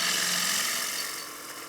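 A wood lathe spins at 1400 RPM while a bowl gouge trues the surface of a wooden platter, making a steady, loud, airy hiss and whir that eases slightly toward the end.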